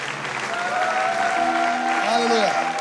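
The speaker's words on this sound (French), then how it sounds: "Acclamez pour la parole de Dieu." Church congregation applauding steadily throughout, a dense wash of clapping with voices cheering and a preacher speaking over it.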